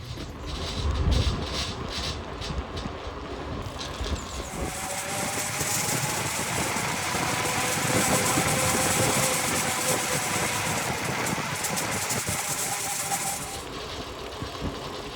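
Train at the small Dullingham railway station with manual level-crossing gates, a low rumbling engine and rolling noise that swells in the middle and tapers off, heard steadily over background noise without talk.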